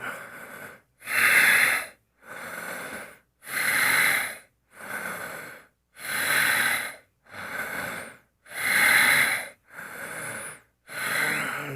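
Deep, slow breathing during a tai chi exercise, with about ten long breaths close to the microphone. Loud, airy inhales alternate with softer exhales in an even rhythm, each lasting about a second with short pauses between.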